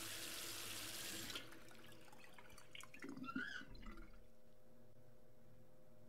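Bathroom sink faucet running as a character washes their face in the video game Cyberpunk 2077, a steady hiss of water at moderate level with splashes toward the middle, then quieter.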